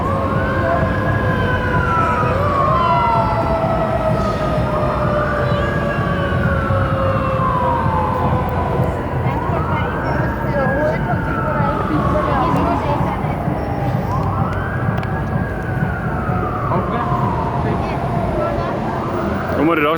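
Sirens from yellow fire trucks wail in repeated rising-falling sweeps, about four cycles, loud and steady over a constant background din, with a voice talking in the mix.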